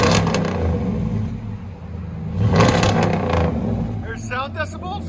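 A 2010 Dodge Ram 1500 pickup with a 5.7L HEMI V8 and dual Black Widow Race Venom exhaust revs, a deep rumble that swells in a loud rev near the middle, then settles toward the end, close by.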